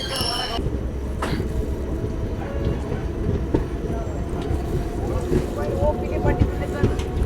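Devgiri Express with ICF coaches rolling out of Purna Junction station, a continuous rumble of wheels and carriages with scattered clanks and knocks, steady and fairly close throughout.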